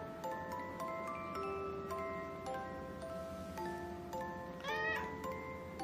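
A house cat lets out one clear, rising meow in reply near the end, following a stretch of steady tonal background sound with light ticking.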